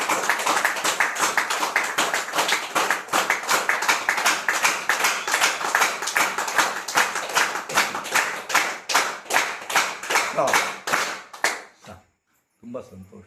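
An audience claps steadily for about twelve seconds after a breathing exercise session, a dense run of sharp hand claps that thins out and stops near the end, with brief faint sounds afterwards.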